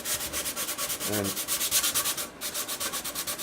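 Rhythmic back-and-forth scraping of sandpaper on a soprano ukulele's wood, a steady quick stroke pattern close by, with a single brief spoken word.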